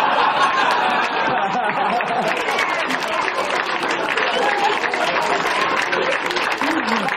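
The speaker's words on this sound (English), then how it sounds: "thank you for clapping" A stand-up comedy audience claps in a long, dense, sustained round of applause, loud and steady throughout, mixed with scattered laughter and crowd chatter.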